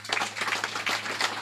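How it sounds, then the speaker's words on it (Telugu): An audience at a Telugu sermon gathering claps in a quick, fairly faint burst of overlapping handclaps lasting about a second and a half, with no talk over it. "కొట్టండి చప్పట్లు ఒకసారి"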